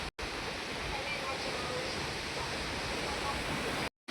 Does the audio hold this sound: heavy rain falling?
yes